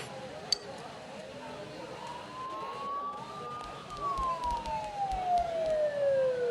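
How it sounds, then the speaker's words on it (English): A siren in a video game wails at a distance, its pitch slowly rising then sweeping down, over a low background rumble. "Don't those sirens sound really close?"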